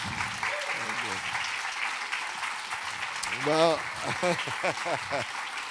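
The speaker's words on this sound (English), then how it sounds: "please give him a round of applause for being here today" Audience applause during an interview event in the north of England, a broad steady patter of clapping running throughout, with a voice speaking over it toward the end.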